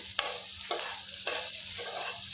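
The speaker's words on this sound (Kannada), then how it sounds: "ಇವಾಗ ಹಸಿರು ಮೆಣಸಿನ್ಕಾಯಿನೂ ಶುಂಠಿನೂ ಫ್ರೈ ಮಾಡ್ಕೊತೀನಿ" Green chillies and ginger fry in a pan with a steady broadband sizzle, broken by four or five short scraping stirs at regular intervals. No voices.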